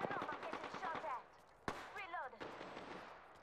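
Video game gunfire rings out in rapid bursts, sharp reports mixed with louder single shots, heard under and between players talking over voice chat.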